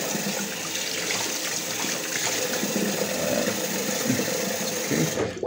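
Cold water runs steadily from a tap into a bathroom sink, a continuous close hiss and splash that stops abruptly near the end.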